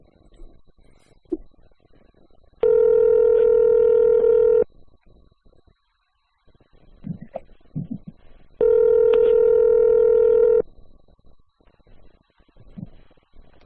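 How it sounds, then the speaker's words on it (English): A telephone rings back while calling someone, two long loud electronic ring tones separated by a pause, with faint background murmuring and small noises between them. "Let's see if he'll pick up the phone real quick."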